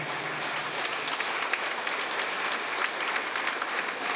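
An audience at a spiritual astrology book launch ceremony applauds, a steady, moderately distant patter of many hands clapping that continues evenly throughout.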